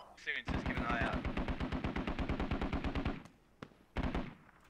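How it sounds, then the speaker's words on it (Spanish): Gunfire in the tactical shooter game Squad: a rapid burst of automatic shots in an even, loud rhythm lasting about three seconds, then a pause and a couple of single sharp shots, with brief talk at the start. "Están disparando más."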